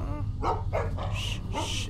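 A dog in The Walking Dead: Season 2 video game whimpering and letting out several short, close barks and yips in quick succession, with a high whine between them.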